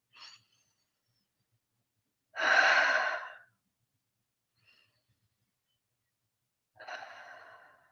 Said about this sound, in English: Take some breaths right into the heart space.